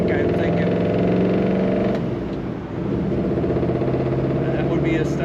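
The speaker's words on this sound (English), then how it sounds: "What a great sound this car has. Kind of like a glass pack, I'm thinking." 1956 Ford Fairlane Sunliner convertible V8 with a glass pack style muffler, a steady throaty engine drone that dips briefly midway then resumes, fairly close and without talk.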